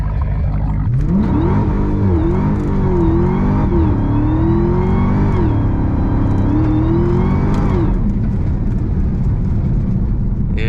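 A Hellcat-swapped Chrysler 300 revs hard with its tires spinning, a loud, close engine roar that climbs and dips through several pulls before settling into a droning whine. The car's tires spin under power throughout.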